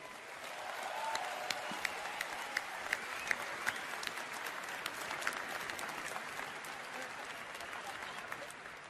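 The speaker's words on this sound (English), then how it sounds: "I'd like you all to give yourselves a huge round of applause." A large crowd at BlizzCon 2010 in Anaheim applauds steadily and continuously, a dense wash of many hands clapping, with a few sharper claps standing out.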